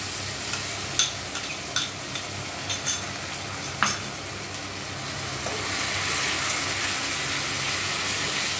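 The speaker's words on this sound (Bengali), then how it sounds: "এই মিশ্রণটা এবার আমি কড়াইতে পেঁয়াজের সাথে মিশিয়ে দিচ্ছি।" A spoon scrapes and knocks in a wok several times as spice paste is mixed into onions, then a steady hiss of frying swells and continues on its own.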